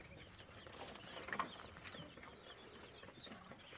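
Chickens and small chicks on a pheasant farm in Fergana, Uzbekistan, giving faint, scattered clucks and chirps over low background noise.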